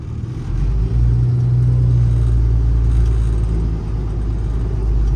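A 2015 Ford F750 mechanics truck with a Cummins engine and 186k miles drives down the road, its low engine rumble and drivetrain drone steady and close throughout with no talking.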